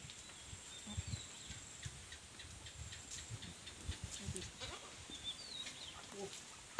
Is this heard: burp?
no